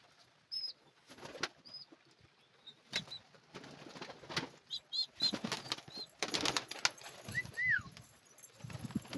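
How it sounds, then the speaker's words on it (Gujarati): Pigeons gathering to eat grain in rainy weather, with scattered wing flaps and rustling, short chirps and calls, close by and fairly quiet. "આ બધા કબૂતર મીંડા છે દાણા ખાવા."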